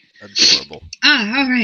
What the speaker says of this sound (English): Here comes a sneeze.